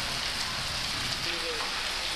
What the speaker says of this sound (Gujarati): વીજળીના ચમકારા અને પવનના સુસવાટા સાથે ધોધમાર વરસાદ નોંધાયો